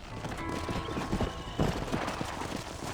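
Horse hooves clip-clop at a quick, even pace in the Red Dead Redemption video game, close and clear and mixed with a whinny.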